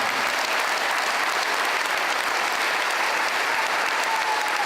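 Dense, steady applause from a large audience, even and sustained without a break, with no voices standing out.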